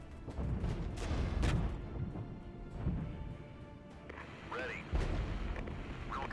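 Artillery fire in the strategy game Regiments, with repeated heavy booms and crashes rolling through a dense battle backdrop, at steady loudness, alongside mechanical rumble.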